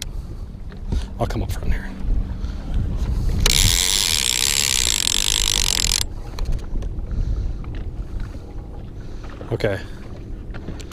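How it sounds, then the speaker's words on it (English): A big outboard motor on a fishing boat roars to life, holding a loud steady drone for a few seconds amid wind noise and water sounds, with someone talking briefly before and after. "Fire up the big motor."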